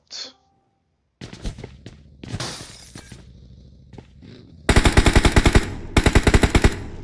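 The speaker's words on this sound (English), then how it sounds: "Shots are flying out. Shots are heftily flying out" Gunfire from PUBG Mobile during an esports qualifier match, starting with scattered single shots and breaking glass, then building into loud rapid automatic bursts in two sustained volleys near the end.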